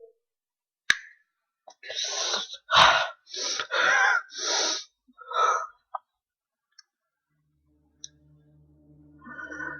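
Heavy, breathy gasps and rasping breaths come in a run of loud bursts, then fade into a low ambient hum with a faint click.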